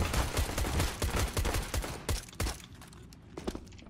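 Rapid bursts of gunfire in a competitive first-person shooter game, a dense run of close shots over the first two seconds, then sparser, quieter shots trailing off.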